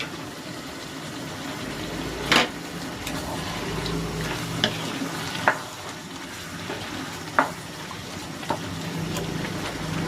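Coconut cream, the first pressing, goes into a hot pan over cooked-down coconut milk for ginataang langka, giving a steady soft sizzle with a few sharp clicks and spatters spread across it, no voices.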